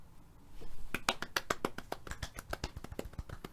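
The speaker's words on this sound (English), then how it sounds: "Don't even clap sarcastically." Slow, sarcastic hand clapping, quiet and close, with a brief pause before a string of roughly twenty sharp, somewhat irregular claps that quicken and then loosen, with no talk over them.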